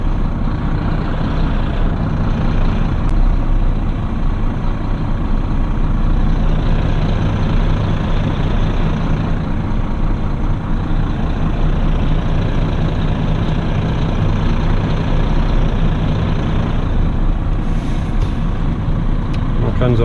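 A heavy truck engine idles loudly and steadily with a continuous low rumble and no pauses, while someone talks over it.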